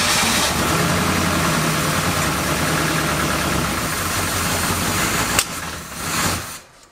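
A forgotten muscle car's engine, stored for 33 years, runs after cranking, idling loud and close in a steady rough rumble for several seconds before faltering and dying out.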